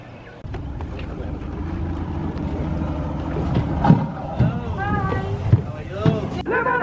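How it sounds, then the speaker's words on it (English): A small water-taxi boat approaching to collect passengers heading to the mainland in Fiji, its engine a steady low rumble with wind noise, while people talk over it. "we're just waiting for the boat because we just missed him"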